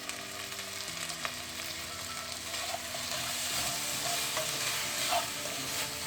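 Spicy Kerala-style chicken kondattam is stirred in a frying pan with ketchup and chili sauce, steady scraping spatula strokes over a soft, constant sizzle, close and fairly loud with no talking.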